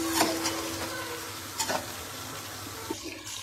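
Chicken stirred in a pan with ground ginger, fresh garlic and salt for a street-style spicy karahi, giving faint scraping and sizzling with a few soft clinks over a steady low background.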